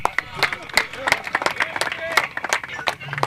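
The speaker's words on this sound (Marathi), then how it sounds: "जोरदार टाळ्या वाजवा" Audience applause at a cricket tournament prize distribution, dense overlapping claps from a crowd throughout, with sharp individual hand claps standing out near and far and some babble underneath.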